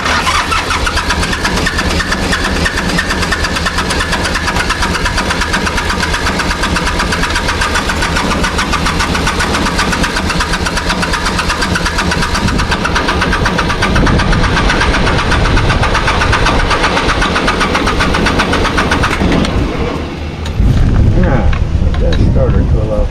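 A car engine churns on its starter and then runs, a loud, continuous rough mechanical drone with uneven knocking; a brief dip comes near the end before it picks back up.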